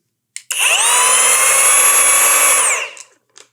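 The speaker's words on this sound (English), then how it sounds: "One of the best things about this grinder is that it's all solid, it isn't wobbly, and it sounds pretty good." A DCA angle grinder spins up sharply, holds a loud, steady high-pitched whine for about two seconds, then winds down, with a brief click before and after.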